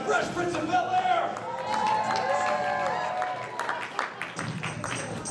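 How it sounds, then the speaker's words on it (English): A crowd applauds at a comedy roast show at LA Comic-Con, a broad wash of clapping and cheering that runs continuously under louder voices and music. "Big round of applause for the Fresh Prince of Bel-Air."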